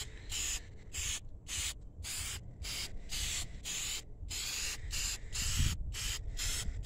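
Bursts of spray painting a first coat onto a 1993 Honda Accord, loud, hissing passes broken by short regular gaps, close by with no talking.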